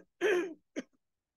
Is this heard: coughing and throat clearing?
yes